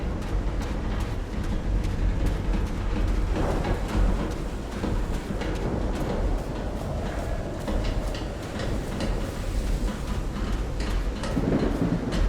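A thunderstorm in the video game Call of the Sea brings steady heavy rain and deep rumbling thunder, a loud, continuous wash throughout.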